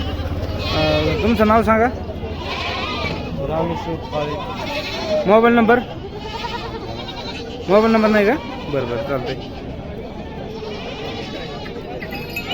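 Goats bleating at a busy weekly goat market in Bodhegaon, with several calls rising over steady crowd noise while someone talks in the foreground.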